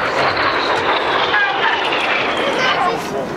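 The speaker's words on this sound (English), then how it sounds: "You've been watching the Royal Air Force aerobatic team, the Red Arrows!" Red Arrows RAF aerobatic jets flying at an airshow in Leeuwarden, a loud continuous engine roar passing overhead with rising and falling whine, steady throughout.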